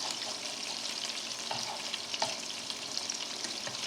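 Salisbury steak patties sizzle steadily in a pan, a close, continuous frying hiss with a few soft clicks as the pan is turned.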